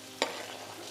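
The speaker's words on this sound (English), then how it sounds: "Now I'm gonna add the potatoes." Potatoes drop into a hot pot of Dominican bacalao with garlic and tomatoes, giving one quick clatter followed by a steady close sizzle.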